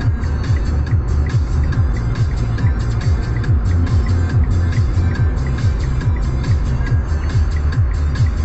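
Fast cars on a busy city road with traffic at 100 to 120, heard from inside a moving vehicle as a loud, steady road rumble with repeated whooshes of cars passing close.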